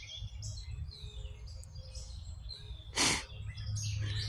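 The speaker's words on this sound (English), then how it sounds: "All birds are happy at chirping away." Many small birds chirp and tweet outdoors at a camping spot near a building, with overlapping high calls running steadily over low background hum and a brief louder rustle partway through.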